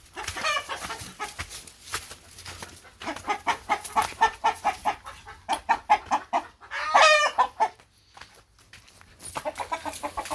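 A young hen clucking close by in a series of rhythmic, rapid clucks that rise into a louder squawking burst, then return to softer clucking with short pauses between.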